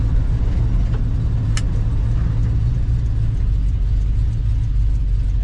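A 1953 GMC five-window short-box pickup street rod drives along, its engine a loud, steady rumble with road noise, heard from inside the cab throughout.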